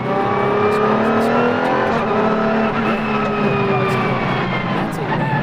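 A rare car worth $10 million is driven fast, its engine revving loudly and close with rising and falling tones and some tire noise, sustained throughout.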